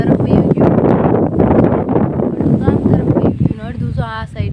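Strong wind gusting across an open farm field in Gujarat, a loud, continuous roar buffeting the microphone, with people talking nearby under it.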